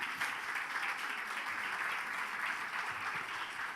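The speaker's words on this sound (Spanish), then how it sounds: "¿Le puede dar un fuerte aplauso al Señor?" A church congregation applauds for the Lord, a fairly faint, steady wash of many hands clapping together with no talking over it.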